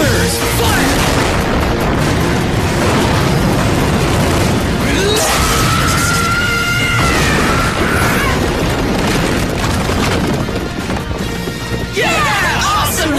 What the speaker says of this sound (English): Afterburners, fire!